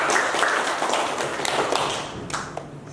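A classroom of students claps their hands together at a teacher's prompt, a busy burst of overlapping claps that thins and fades toward the end.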